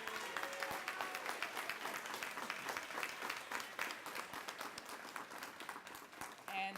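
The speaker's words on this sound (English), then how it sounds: "A round of applause again for Dr." An audience at an environmental awards breakfast claps continuously, dense, steady applause filling the room for several seconds with no break.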